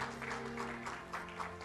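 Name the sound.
congratulatory applause at a temple anniversary ceremony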